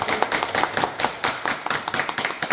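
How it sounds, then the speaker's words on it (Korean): Close, loud audience clapping after an exercise demonstration at a health school, with individual hand claps distinct in a quick, slightly irregular rhythm. "여러분 큰 박수로 감사합니다."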